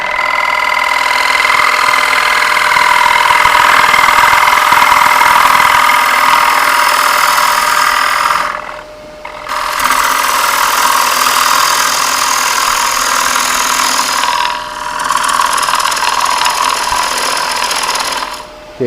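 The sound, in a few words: wood lathe turning a three-footed bowl, cutting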